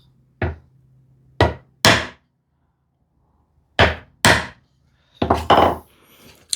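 A chisel chops into wood in sharp, isolated strikes, two quick hits, then a pause, then more pairs and a closing cluster, each a crisp close-up thwack ringing out in a quiet room.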